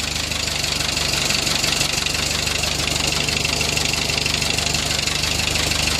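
A seventy-year-old tractor engine idles close by, running steadily with an even, low, throbbing knock and no voices.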